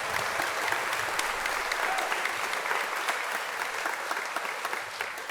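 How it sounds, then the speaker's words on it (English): Steady, sustained applause from a large audience at a 2023 graduation ceremony, dense clapping filling the room evenly and fading slightly at the end. "You can give them a round of applause as well."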